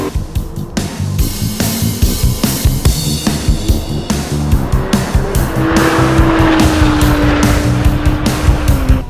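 Car on a race track braking and shifting, engine revving loudly and repeatedly with tires squealing as it slows for a turn, close and continuous, no talking.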